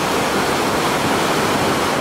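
A powerful river current rushes beneath a bridge on a walking trail, heard as a loud, continuous broadband roar of churning water that stays steady and close throughout.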